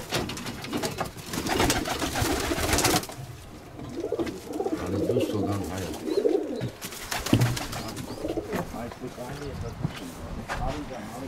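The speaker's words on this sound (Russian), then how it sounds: "Старые породы голуби." Old-breed Armenian pigeons in a loft, cooing in low throaty bursts close by, with rustling, fluttering and a person talking over the birds.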